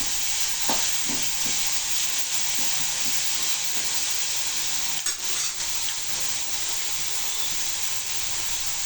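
Ingredients sautéing with salt in a pan for Chettinad fish kulambu, a steady loud sizzle and hiss throughout with occasional scrapes and stirring clinks of a spoon against the pan, no voices.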